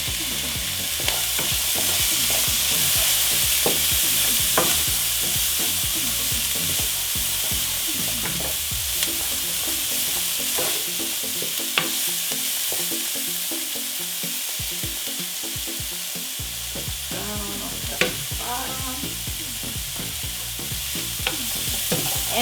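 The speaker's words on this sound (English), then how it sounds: "And I cook it just till the onions are translucent" Chopped onion and about a teaspoon of garlic fry and sizzle in a pan for a black bean quesadilla, a steady crackle broken by repeated scrapes and stirs of a utensil, with no voices.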